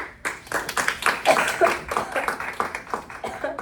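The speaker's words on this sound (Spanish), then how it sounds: "Un aplauso." Applause breaks out in a classroom after a mock criminal court hearing, many hands clapping in a dense, steady patter that carries on for several seconds at moderate loudness.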